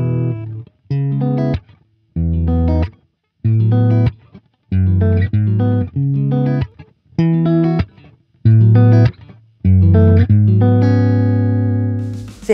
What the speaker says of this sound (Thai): อันนี้จะเป็นการจำลองฮัมเบอร์เกอร์ของสองตัวนี้นะครับ